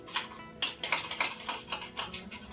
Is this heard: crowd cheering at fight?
no